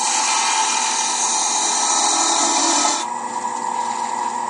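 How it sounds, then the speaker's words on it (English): A narrow parting tool cuts into a spinning mahogany box on a lathe, giving a loud, steady scraping rasp up close that changes to a lighter, thinner tone partway through. "I will use my narrow parting tool just to start the cut"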